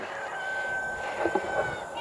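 Chickens and roosters out in an open field give a few brief clucks and calls over steady outdoor background noise, with a faint thin whine running underneath.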